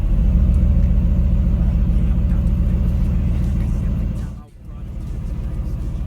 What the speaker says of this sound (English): You can really hear the exhaust valves open up on sport plus mode.